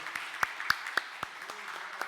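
A church congregation gives sparse, faint applause, with single claps landing at a slow, fairly even pace over a quiet background.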